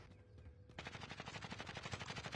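Rapid automatic gunfire in a video game bursts in after a brief quiet moment, a fast, evenly spaced stream of shots that continues to the end, fairly faint overall.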